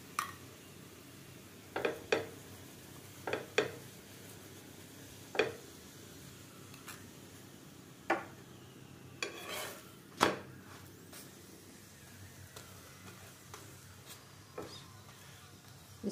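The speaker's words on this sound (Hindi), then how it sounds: "स्पैचुला से इस तरह से दबा दबा करके मैं सेक लूंगी" A spatula presses and scrapes a radish paratha roasting in ghee on a pan, giving scattered sharp clicks and scrapes at irregular intervals over a faint, steady background.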